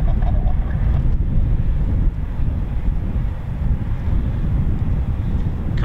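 A Eurofighter Typhoon fighter jet makes a performance takeoff on afterburner, giving a steady, loud, broad roar with wind buffeting and no clear breaks for the whole stretch.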